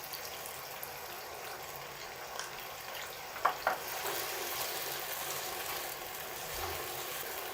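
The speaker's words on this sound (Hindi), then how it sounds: "तकरीबन 5 मिनट फ्राई करेंगे।" Chicken pieces sizzle quietly in a salted pan, a steady low frying hiss with a couple of brief clinks partway through and no talking.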